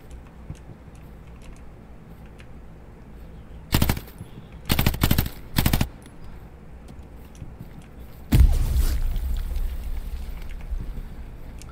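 Hell Let Loose game gunfire: a short rifle burst, then several quick rapid-fire bursts close together, a pause, and one loud blast with a lingering reverberant tail over low background noise.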